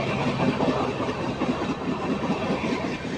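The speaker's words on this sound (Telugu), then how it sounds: "చెన్నపట్నం స్టేషన్కి మన ట్రైన్ చేరుకుంది." The KSR Bengaluru–Mysore SF Express pulls into Channapatna station, a continuous rumbling roll with soft rhythmic wheel clatter, heard steadily from on board.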